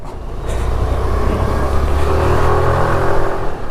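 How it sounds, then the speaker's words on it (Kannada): A Suzuki Avenis scooter engine revs and hums steadily, building slightly in loudness, with road and wind noise around it and no talking. "ಗಾಡಿದಂತೂ ಬುರ್ರ್ ಅಂತ ಸ್ವೀಟ್ ಸೌಂಡು"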